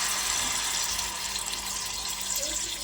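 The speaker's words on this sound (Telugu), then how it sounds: "ఇప్పుడు చికెన్ అయితే వేసేసుకుందాము" Marinated chicken sizzling after going into a pan of hot oil for chicken biryani, a steady hissing rush, close and even, with no talking.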